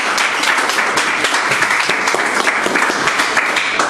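An audience at a Godzilla book presentation breaks into loud, sustained applause, many hands clapping in a thick, even roar that holds steady from start to finish.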